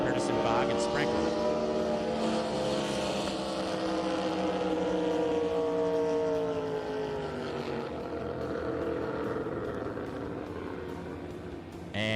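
Drag racing boats roar across the water at a drag boat nationals event. A loud, sustained engine drone rises and falls in pitch for several seconds, with an announcer talking over it.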